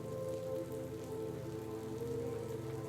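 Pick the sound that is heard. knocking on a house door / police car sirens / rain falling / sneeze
rain falling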